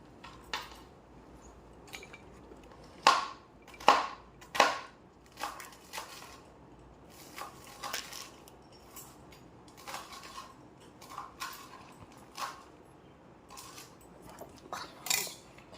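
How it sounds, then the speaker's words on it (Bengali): A knife finely chops banana blossom with irregular, crisp taps against a board. A few louder strikes come close together early on, then lighter cuts continue sporadically in a quiet kitchen with no talking. "এই দেখুন আমি এবার এগুলো কেটে নিচ্ছি কুচি কুচি করে"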